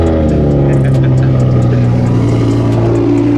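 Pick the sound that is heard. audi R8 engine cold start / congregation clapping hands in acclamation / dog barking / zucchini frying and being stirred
audi R8 engine cold start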